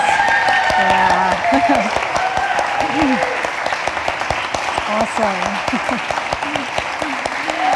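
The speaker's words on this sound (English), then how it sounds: "let's give Garrett a big round of applause" An audience gives a round of applause for Garrett, with dense, steady clapping that lasts the whole stretch while a few voices speak over it.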